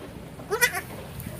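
A goat in a raised pen gives a single short bleat, moderately near, over a steady background hiss.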